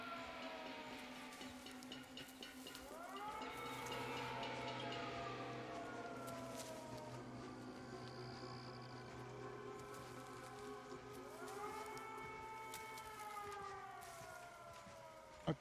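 A civil-defense-style siren in Call of Duty Modern Warfare 2 wails in long rising and falling sweeps, holding steady over about fifteen seconds with a second wail climbing near the end, loud against a low background hum.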